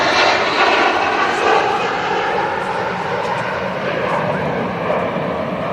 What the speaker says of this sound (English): Let's catch this Virgin Atlantic 330, 300 departing